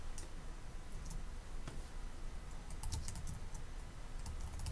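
Quiet typing on a computer keyboard, light irregular key clicks in short bursts, close but faint, with no talk.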